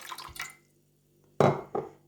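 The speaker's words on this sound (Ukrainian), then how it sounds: "От вилила я воду." Warm water poured from a cup into a bowl for yeast dough, giving short splashy bursts separated by a brief quiet pause, near and fairly loud.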